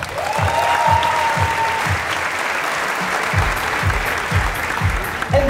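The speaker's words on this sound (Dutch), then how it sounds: "een luid applaus voor Jan van Dijk!" An audience at the Mister Gay Belgium 2018 gala applauds loudly and steadily at close range, with a beat of music underneath and a brief voice in the hall.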